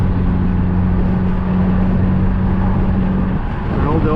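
Hyundai Elantra N engine pulling hard under acceleration, a loud, steady low drone with tonal engine harmonics and wind buffeting, heard from inside the car.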